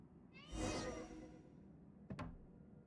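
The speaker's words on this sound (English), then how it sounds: "Find the source of the cat cries." A cat cries from behind a painting in the video game Genshin Impact, a single drawn-out, muffled meow at moderate volume followed by a brief swish.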